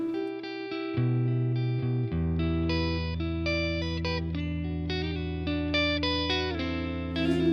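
Clean electric guitar chords ring out through a Fender Silverface '68 Custom Deluxe Reverb reissue tube amp with lush spring reverb, sustained and full, each strum blooming and decaying smoothly with no talking.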